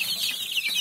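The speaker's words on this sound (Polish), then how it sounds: "Są dwie brachmy ciemne." Young dark Brahma chicks, about three weeks old, clucking softly in a short burst of high chirpy peeps, close by with no talk.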